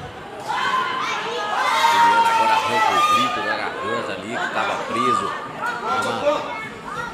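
Spectators at a squash tournament final cheer and shout in support of a player, a dense wash of crowd noise and excited voices that swells and falls, with some chatter mixed in.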